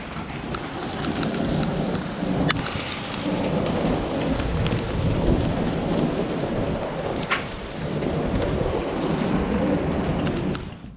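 Heavy rain and hail pounding down in a storm, with rolling thunder and sharp impacts on surfaces, loud and close, a dense continuous roar throughout.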